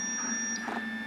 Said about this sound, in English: It makes a high-pitched beep.